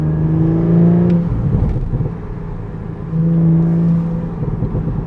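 A stock 2022 Audi S5 Sportback engine revs loud and close with a deep rumbling drone that swells, dips, and rises again.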